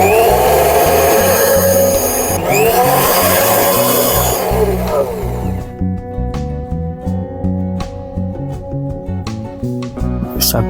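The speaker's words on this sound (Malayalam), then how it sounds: "ശർക്കരയും കൂടെ ഒഴിച്ചു കൊടുത്ത് ഒന്നുകൂടെ ബ്ലെൻഡ് ചെയ്തെടുക്കാം" Homemade mayonnaise is blended with oil in a kitchen blender. A loud, close motor whir with shifting pitch drops after about five seconds into a steadier, pulsing drone.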